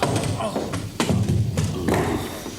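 Several guns set down on a table in a comedy film scene, a series of dull thuds and taps over a couple of seconds, heard amid background voices.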